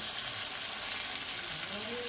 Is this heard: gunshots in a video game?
no